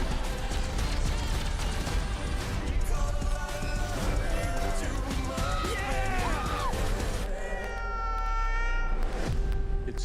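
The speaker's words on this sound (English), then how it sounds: "God, I hate that cat." A cat meows repeatedly with drawn-out, wavering cries over continuous music and background sound, holding a steady level throughout.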